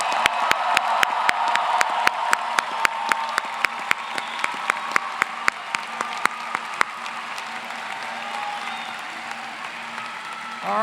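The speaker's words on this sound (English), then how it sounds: "Big, big round of applause for this class." A crowd applauding steadily at a medical school white coat ceremony, dense clapping throughout that slowly thins toward the end, with sharp regular claps standing out close by.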